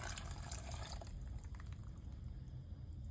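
Wet ingredients poured into a bowl of dry ingredients for a Jamaican Easter spice bun, a faint liquid trickle and drip, clearer at the start and then fading into quiet kitchen background.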